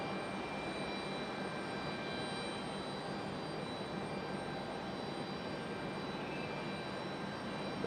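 An Airbus A220-300 jet at Raleigh Durham International Airport gives a steady, broad roar of engine noise that holds at constant loudness throughout, with faint tonal whine above it.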